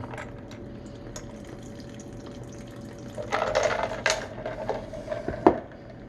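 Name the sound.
homemade mustard being poured through a makeshift strainer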